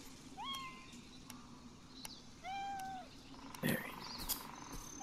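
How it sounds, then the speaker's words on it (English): A cat in an indie video game gives two clear, rising-and-falling meows about two seconds apart over a soft ambient game backdrop, followed by brief chirpy in-game sounds. "Where's that cat? I hear you, cat."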